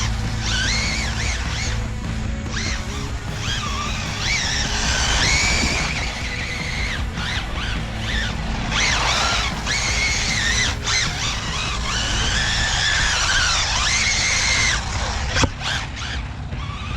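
Rlaarlo AK-787 brushless RC car driving with its rear end sliding around, giving a continuous high whine with squealing tire scrubs that rise and fall, steady and fairly loud throughout, with no talking.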